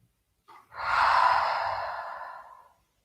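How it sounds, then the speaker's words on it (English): A single long exhale through the mouth during a yoga flow, a close, breathy rush that swells quickly after a short intake and then fades gradually over about two seconds. "With breathing through your mouth, try to release, all that what is left there."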